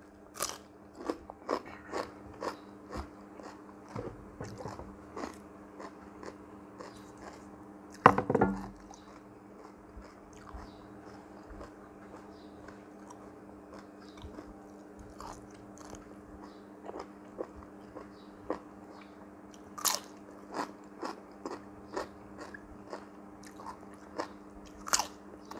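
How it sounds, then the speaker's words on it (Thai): Crunchy cucumber bitten and chewed close to the mic, with sharp crisp crunches scattered irregularly over a quiet steady background hum, one louder bite standing out early and clusters of chewing following. "แตงกวากรอบมาก"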